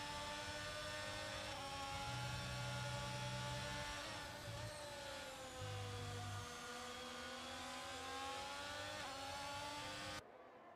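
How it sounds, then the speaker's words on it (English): Ferrari Formula 1 car from the F1 2022 racing game on medium tyres, its engine whine steady and high with dips and shifts as it brakes into a corner near the Spanish Grand Prix circuit, loud and continuous with no talk, cutting off near the end. "You can just tell how confident the Ferrari is under braking on those medium tyres."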